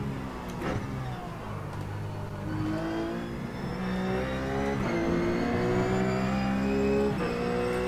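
A racing car engine in a racing video game revs and accelerates through the gears, a steady whining roar that climbs in pitch with repeated shift drops, loud and continuous with no talk.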